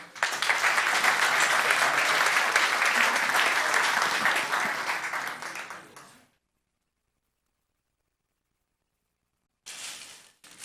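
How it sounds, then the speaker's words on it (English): Applause from a town council meeting audience after the Pledge of Allegiance, a dense steady clapping for about six seconds that fades out, then silence and a brief burst of clapping near the end. "Let's give her a hand."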